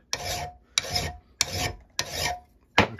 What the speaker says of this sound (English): You file in one direction, not multiple directions.